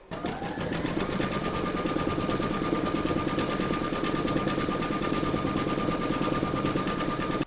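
Embroidery sewing machine stitching round a quilted coaster, a fast steady mechanical whir and needle chatter running close and continuous from start to finish.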